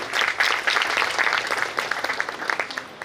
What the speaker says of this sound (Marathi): सगळ्यात आधी आपण टाळ्या वाजून त्यांना दाद देऊ